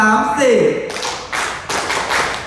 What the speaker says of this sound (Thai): ปรบมือแบบ BFSI พร้อมกัน3 4